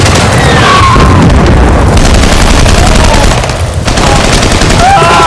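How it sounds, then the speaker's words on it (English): Mortar fire in a Finnish war film battle toward Leningrad: loud, dense, continuous booms and gunfire bursts rolling together with little pause. "now they're using mortars, which is the first time I've seen that"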